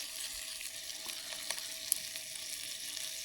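Pitta bread sizzles steadily in a pan cooking in an inflatable kayak, a bright continuous crackle with a few sharper pops and light stirring, no talking.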